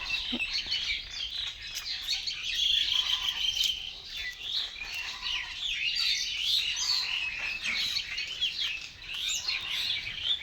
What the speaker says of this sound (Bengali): এই পাশ দিয়ে পাখিগুলা ডাকতেছে।